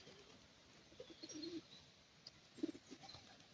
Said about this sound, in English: Look at all the birds chilling.